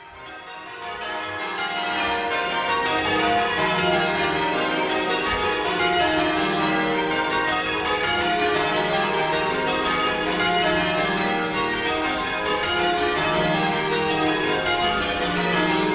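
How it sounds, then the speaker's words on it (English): A ring of twelve church bells is rung in a national striking contest final, the full peal sounding loud and continuous with a steady rhythm of overlapping strikes. "You're listening to the National 12-Bell Striking Contest Final."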